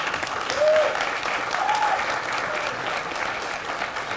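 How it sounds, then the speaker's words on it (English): Audience at a tech talk about a multi-chain crypto wallet breaks into sustained applause, a steady wash of clapping with a faint voice briefly audible underneath. "Sounds like you got a better clap than I did."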